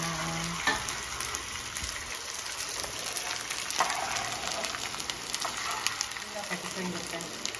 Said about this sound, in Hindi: हमारा गूंद फ्राई हो रहा है घी में